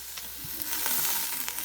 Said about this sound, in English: this meat is not at all getting done, it's just getting browned